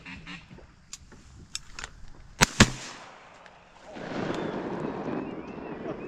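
Two sharp, close shotgun blasts at teal ducks during a Minnesota teal opener hunt, preceded by scattered duck calls and faint murmuring, then followed by rustling and duck noise.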